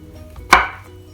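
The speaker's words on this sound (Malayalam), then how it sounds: "ഇനി നമുക്ക് ഓരോ മഷ്റൂമിനെയും 2ആയി കട്ട് ചെയ്ത ശേഷം" A kitchen knife halves a mushroom on a cutting board for fried rice, giving one sharp, close chop that fades quickly, with no talking.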